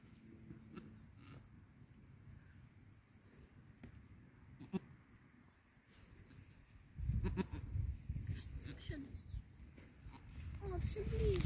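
A goat giving birth on a farm bleats in several short, strained calls, growing louder and more frequent toward the end, with people talking quietly nearby.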